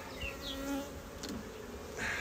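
Steady insect buzzing from a crowd of honey bees at a hive, close and continuous, with a few brief higher-pitched whines passing over the drone.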